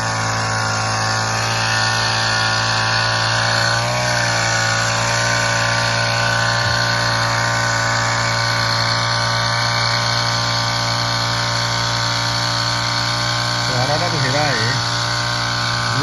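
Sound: engine of a crop spraying machine

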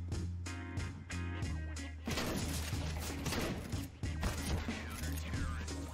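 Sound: Nova shotgun firing in the video game CS:GO

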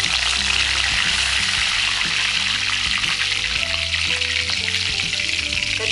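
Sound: mustard seeds and curry leaves sizzling in hot oil

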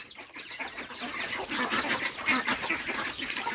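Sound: ducks and chickens on a farm

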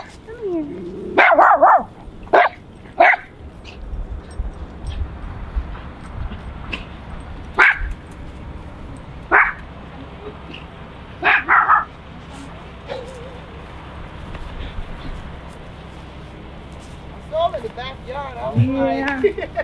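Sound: dog barking

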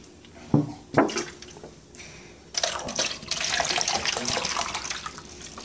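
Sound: filling a water bottle at the tap

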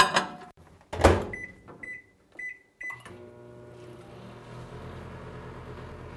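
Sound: 1400 watt microwave oven running

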